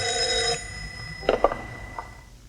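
A home telephone rings loudly with an electronic bell tone, the ring fading after half a second, followed by a few faint clicks and knocks in a quiet room.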